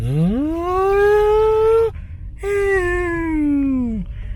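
A voice imitates the thin, steady electric motor whine of a 2020 Porsche Taycan 4S, holding one tone, breaking off briefly, then resuming and sliding down at the end.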